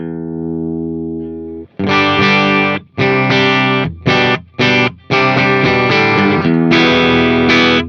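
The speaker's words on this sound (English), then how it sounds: "the little bit of distortion and clipping takes the ice pick sound out of the clean tone" An electric guitar plays a held note, then a run of strummed chords with a light crunchy amp distortion and clipping, through a Synergy Syn20IR and Friedman BEBB, loud and close.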